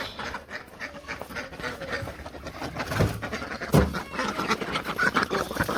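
Village ducks being fed near a house quack in short, uneven bursts over a busy rustling background, with a couple of louder calls toward the middle and no talking.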